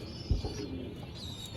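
Teddy pigeons give a quiet, continuous cooing close by, with one brief knock near the start.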